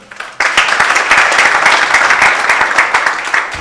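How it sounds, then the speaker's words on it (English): Audience applause after an academic executive dialogue with a professor and discussants, a dense, steady wash of many hands clapping that starts abruptly and holds loud and close to the end. "I think another round of applause"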